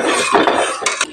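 A utensil stirs a peanut paste and water mixture in a metal pot, giving a brief loud scrape followed by a couple of sharp clinks against the pot's side.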